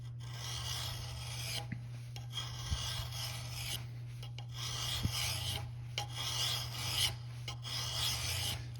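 A metal hand file rasps rhythmically back and forth across a workpiece, cutting a facet along one side, with repeated steady strokes heard close and fairly quiet over a constant low hum.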